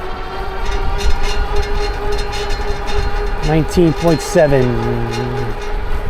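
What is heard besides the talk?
Hitway BK6M folding ebike motor running and fender rattling at speed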